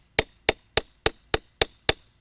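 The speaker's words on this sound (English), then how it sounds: "I'm sure I could bash this out in a few minutes with a huge hammer, but I'm just tapping it." Seven evenly spaced, sharp metallic taps of a hammer lightly striking a copper axe head, close and crisp with short ringing decay, no talk.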